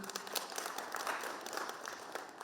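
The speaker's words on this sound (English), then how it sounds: "A clap to Geoffrey" Applause from the audience at a gathering of TVET principals on prior learning recognition, a dense, steady wash of many hands clapping that holds at an even level for the whole stretch, with no voices rising above it.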